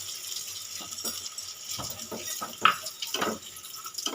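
Coconut milk poured into a pan for a vegetarian Bengali eggplant dish with poppy seed, a soft liquid trickle and splashing with a few small clinks, moderately close and fairly quiet.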